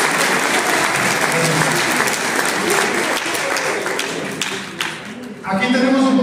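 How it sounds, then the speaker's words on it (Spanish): An audience at a statistics and elections presentation claps in a steady, dense round of applause that fades near the end, as a voice begins to speak over it. "Un aplauso para ellos, por favor."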